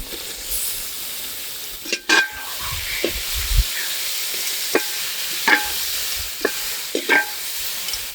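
Chicken pieces frying in softened onion-tomato masala on a hot tawa at a Madurai roadside stall, with a steady close sizzle broken by a few sharp scraping stirs, no talking.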